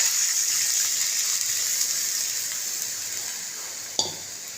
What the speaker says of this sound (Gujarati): હિંગ નાખીને વઘાર કરશું.